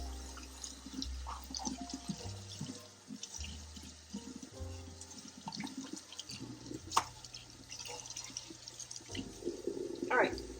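Water runs from a kitchen tap into a dirty sink as it is washed and bleached, a steady splashing stream with clinks and knocks, heard under intermittent talking.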